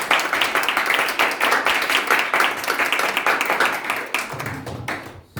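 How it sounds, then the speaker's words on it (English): A church congregation claps together during a service, a fast run of crisp, fairly even hand claps that holds steady before thinning out near the end. "Let's clap for them."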